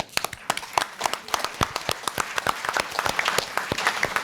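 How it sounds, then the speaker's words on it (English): Audience of Edward R. Murrow Society members applauding at an appreciation night, sparse distinct hand claps building into a steady round of applause, close and lively. "I'd like to give you, our Morrow Society members, your own round of applause."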